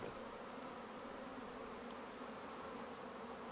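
A honey bee swarm buzzes steadily and densely, a close, continuous hum of many wings that holds level throughout with no other sounds.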